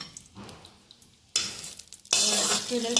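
Fenugreek seeds hit hot tempering oil with mustard seeds and red chilli, sizzling in two sudden bursts that grow louder and stay a crackling, close frying hiss, with faint stirring.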